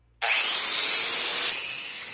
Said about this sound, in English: You got the angle grinder with the cut brush